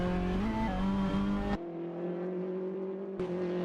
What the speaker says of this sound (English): tyres squealing.